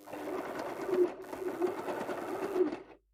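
Domestic sewing machine running a straight stitch on fabric for a book cover, a steady whirring motor hum with rapid needle clatter, stopping briefly and then continuing before cutting off; no speech.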